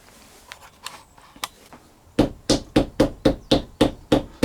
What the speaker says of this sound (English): hammer them down to get them all sitting nice and flush